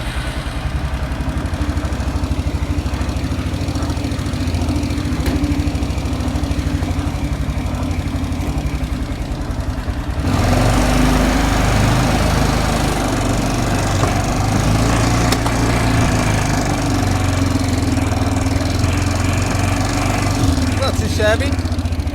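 A free used four-wheeler ATV with major problems is ridden, its engine running steadily and close throughout, then rising into a louder, rougher drone about halfway as it pulls away.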